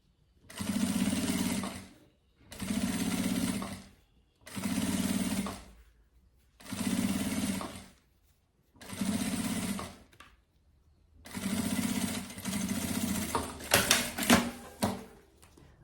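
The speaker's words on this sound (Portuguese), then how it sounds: "passa essa costura por toda a extensão do meu zíper, mais próximo aqui dos dentinhos" Sewing machine running stitch 3.5 along the full length of a zipper on a fabric carry-on bag, close to the teeth, in six steady bursts of about two seconds each with short pauses between, the last run longer and ending in some clatter.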